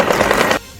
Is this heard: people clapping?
no